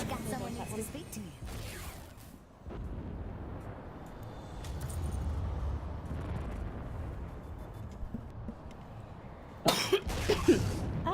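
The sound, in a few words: cough into the microphone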